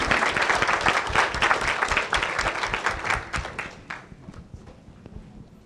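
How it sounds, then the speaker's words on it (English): An audience at an FAA training summit gives a round of applause, dense and lively at first, then thinning to scattered claps that fade over several seconds. "Let's get a round of applause going."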